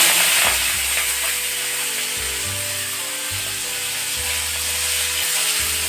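Cauliflower stalks and green chillies hit a hot pan for a Bengali mixed winter vegetable vegetarian dish, giving a loud, steady close-up sizzle and hiss with no voices, over a low background hum.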